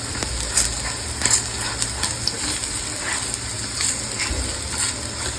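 Paneer slices frying in a pan give a steady close sizzle with scattered crackles and pops throughout, no voices over it.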